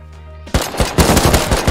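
Loud rapid bursts of AK rifle fire in the survival video game Rust erupt after a brief quiet start, with sharp shots repeating in quick succession and no talking.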